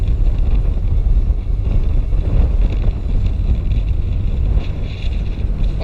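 Strong wind buffets the microphone aboard a boat heading out of an inlet toward open ocean near Bimini, Bahamas, a steady loud roar of gusts and rumbling hull and water noise with no talking.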